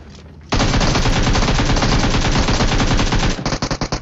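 Gunfire in PUBG Mobile: a loud, sustained automatic burst fires rapidly for about three seconds, then breaks into a few separate shots as it tapers off.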